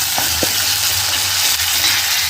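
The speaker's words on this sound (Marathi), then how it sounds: "एक चमचा मी अद्रक लसण पेस्ट टाकते आहे आणि याला पण परतवून घेते" Ginger garlic paste sautés in a pan with a loud, close, continuous sizzle, broken by a couple of light spoon scrapes and stirs.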